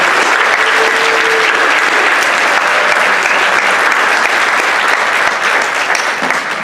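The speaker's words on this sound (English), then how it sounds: "let's give all our seniors a big round of applause for their accomplishments today" A school gym audience gives graduating high school seniors a sustained round of applause at a senior signing day, loud, dense clapping continuing steadily from start to finish.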